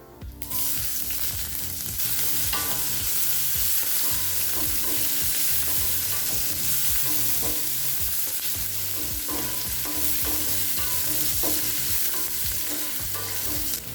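Chopped onion frying in hot oil in a pan after curry leaves and minced garlic, sizzling steadily with repeated scraping stir strokes throughout, close and loud with no voices.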